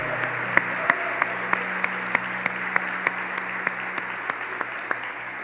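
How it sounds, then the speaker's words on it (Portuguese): Sparse, rhythmic clapping from a few people at a church service, evenly spaced over a steady hum, like a small group slowly applauding. "dê uma linda salva de palmas ao Senhor Jesus pela sua vida"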